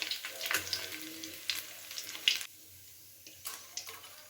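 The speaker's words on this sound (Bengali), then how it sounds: "এখানে সমস্ত মাছগুলো কিন্তু আমি খুব ভালো করে লাল লাল করে ভেজে নিয়েছি।" Small fish sizzle in hot oil in short, uneven bursts of crackling, with a quiet stretch partway through before the frying hiss returns.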